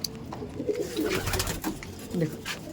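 Madras pigeons cooing in a loft, low rolling coos repeating through the clip at close range, with a faint murmur of voices in the background.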